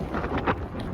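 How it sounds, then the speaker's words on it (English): Wind gusting across the microphone outdoors near a moored boat, soft buffeting rumble with a couple of brief louder puffs. "Oh, it's windy up here."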